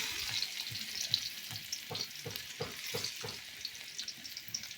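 Crushed garlic fries in hot oil over a clay village stove, crackling loudly and steadily. A rhythmic series of stirring scrapes runs through the middle.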